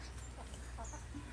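Hens cluck faintly at a farmhouse yard, a few soft, short calls over a low background hum.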